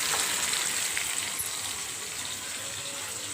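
Ivy gourd (dondakaya) curry frying in a pan, a steady broadband sizzle with bright hiss, even and close throughout with no talking.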